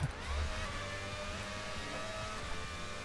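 Simulated V12-powered 2026 Formula 1 car in a racing video game, its engine droning steadily with layered whining harmonics as it accelerates, close and continuous with no voices.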